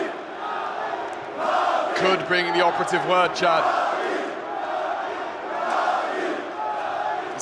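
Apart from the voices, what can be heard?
esports arena crowd cheering getting louder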